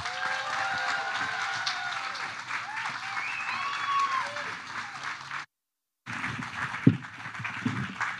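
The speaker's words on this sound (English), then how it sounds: "let's give a big round of applause for Emily Laliotis" An audience at the 2021 CCA Foundation gala applauds singer Emily Laliotis with dense, sustained clapping and a few crowd voices. The applause breaks off into brief silence, then resumes with a sharp knock.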